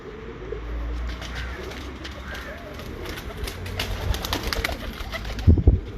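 Breeder pigeons coo repeatedly in soft, low, throaty calls against steady background hum, with a few louder bumps and handling noises near the end.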